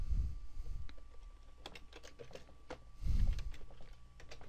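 Someone types a photo caption on a computer keyboard: a few scattered key clicks come through at close range, mixed with low thumps and a soft background hum.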